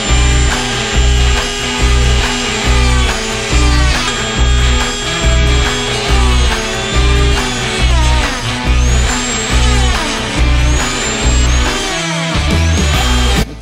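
A high-pitched Dremel with a cutting wheel grinds steadily through a Harley-Davidson Street Glide Special tour pack in repeated pulsing strokes, loud and close, with a brief drop near the end.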